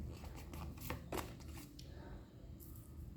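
Tarot cards being drawn and handled during a reading, soft quiet shuffling and sliding swishes with a few brief flicks, close and faint, no talking over them.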